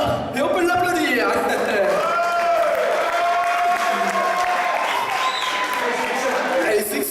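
Audience applause at an evening magic show held for a charity event in Maubeuge, a steady wash of clapping with some cheering lasting several seconds, with a voice talking over it.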